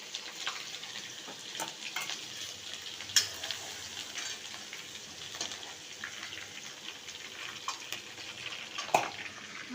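Cumin seeds, chopped ginger and garlic, with ginger paste, fry in oil in a pan, giving a soft, steady crackle that continues throughout, broken by occasional sharp taps and scrapes from stirring.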